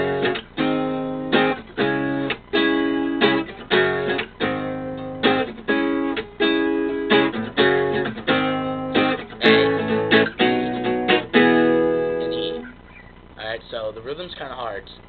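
Strummed guitar chords ring out in a steady rhythmic pattern, each strum a sharp attack that decays before the next, played alone and close.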